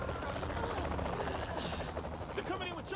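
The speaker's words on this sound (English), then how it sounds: "They're coming in with choppers." Helicopters closing in during a gunfight in the video game Saints Row: The Third, a steady whirring drone layered with game noise and voices talking throughout.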